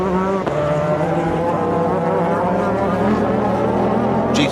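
GT race cars at Monza during the FIA GT 2008 round roar continuously, a dense layered engine drone with overlapping tones from several cars, loud and sustained with a brief sharp change near the end.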